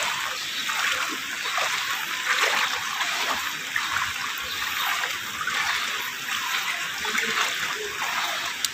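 Floodwater from Typhoon Carina splashing and sloshing around a flooded home area in Beverly Homes, Marilao, Bulacan, a steady wash of splatter and trickling close by, with voices faintly present underneath.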